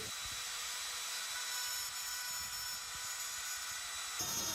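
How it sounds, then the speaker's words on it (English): A trim router routs a bow tie recess in wood, a loud, continuous, close-up roaring whine that holds steady from start to finish with no pauses. "And now I cut the races for the bow tie with trim router."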